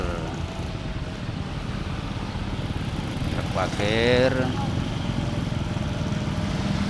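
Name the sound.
motorcycle riding through a traffic jam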